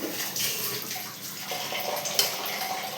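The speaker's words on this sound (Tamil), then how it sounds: "தேவையான அளவுக்கு தண்ணி ஊற்றிக்கலாம்." Water pours steadily into a cooking pot with a bright, splashing rush, close by and without talk.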